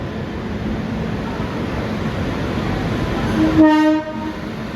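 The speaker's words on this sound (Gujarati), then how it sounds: "આ ટ્રેન જે છે ઇન્દોરથી વેરાવળની તમે જોઈ શકો છો ઇન્દોરથી આવી છે" A train horn sounds loudly for about half a second over a steady rumbling background at a railway station in Gujarat, India, no voices; the train runs from Indore to Veraval.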